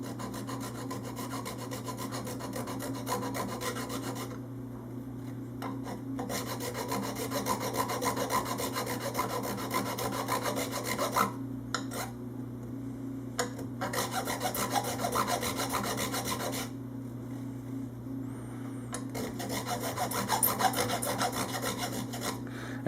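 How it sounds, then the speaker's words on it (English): A thin flexible file rasps across guitar frets in long, steady strokes, broken by brief pauses between passes, close and fairly loud. "using a thin flexible file is so that I can push down on it and just file the spot that I want"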